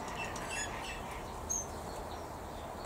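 Sparrows in a backyard aviary chirp faintly in the distance over a steady background hiss, with a few scattered high tweets and no talking.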